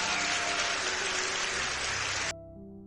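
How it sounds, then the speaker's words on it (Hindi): Applause roars through a royal court, a dense, steady wash of clapping that holds loud for a couple of seconds and then cuts off abruptly, leaving a faint low hum. "फिर तालियों की गड़गड़ाहट गूंज उठी"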